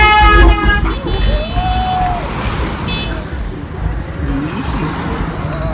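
A car goes by on a busy street, its engine noise rising and fading amid horn toots, traffic and lively crowd chatter, with people shouting close by.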